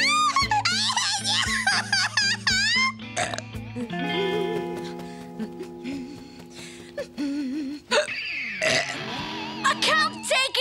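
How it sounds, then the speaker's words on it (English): A cartoon boy hiccups repeatedly in a comedic animated show, sharp voiced hics scattered among squeaky cartoon effects and music stings, loud and close. "I've got to stop these hiccups!"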